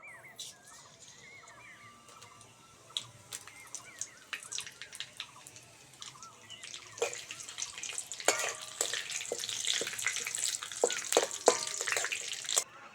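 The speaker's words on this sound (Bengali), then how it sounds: "ফোড়নের জন্য নিয়েছি দুটো তেজপাতা, দুটো শুকনো লঙ্কা, গোটা জিরে দিয়ে দেব" Bay leaves, two dried red chillies and whole cumin crackle and sizzle in hot oil as a tempering for a vegetarian potato curry. Sparse pops come first, then the crackling grows denser and louder.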